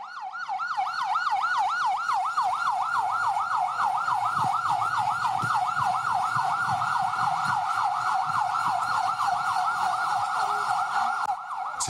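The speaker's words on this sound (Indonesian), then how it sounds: "Sejumlah mobil ambulans hilir mudik membawa korban keracunan ke posko darurat" An ambulance siren wails steadily in a rapid, repeating up-and-down warble, loud and close, with low traffic rumble beneath it.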